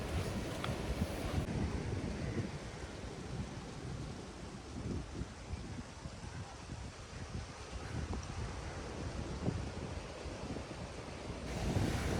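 Waves roll onto Mattu Beach in Udupi, a continuous low surf rumble mixed with heavy wind buffeting across the microphone, steady throughout and swelling slightly at the end.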